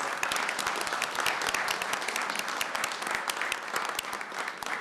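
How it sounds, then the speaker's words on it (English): Applause from the audience at a city council meeting: many hands clapping at a steady, fairly loud level for nearly five seconds, with no talking over it. "Let's give them a round of applause."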